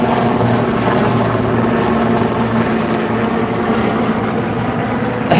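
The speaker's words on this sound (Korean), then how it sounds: "청도 군의 거 우리 군의 청도 군의 헬기네." A firefighting helicopter flies over a dam during a wildfire response, its rotor throbbing loud and steady with a droning engine hum, close by and continuous with no talking.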